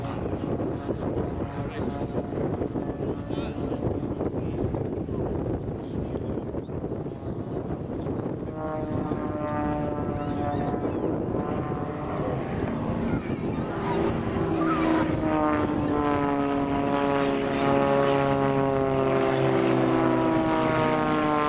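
Aircraft at the Duxford air show, a light carbon fibre airframe, drones steadily overhead with a rising harmonic engine whine, backed by wind rumble across the microphone.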